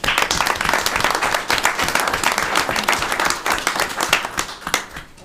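An audience at a town board of commissioners meeting claps steadily and loudly for several seconds, many hands close together in a continuous patter with no talk.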